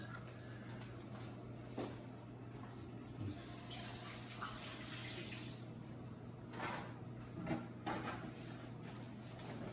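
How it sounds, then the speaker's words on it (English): Running tap water splashes steadily as hands are washed at a kitchen sink, a continuous, fairly quiet gush with faint knocks and no talking. "I'm going to wash my hands"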